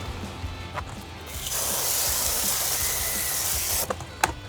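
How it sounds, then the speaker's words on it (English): Water sprays and hisses steadily for a few seconds while brewing equipment is rinsed off to clear away sticky residue, framed by faint knocks and handling clatter before and after. "Take this and rinse it off right away"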